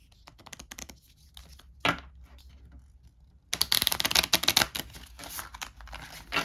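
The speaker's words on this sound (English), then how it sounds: "you take these cards, you shuffle them up" Cards from the Aliens: Bug Hunt game are riffled and shuffled in quick crisp bursts, first sparse flicks, then a denser rapid flutter, close by with no talking.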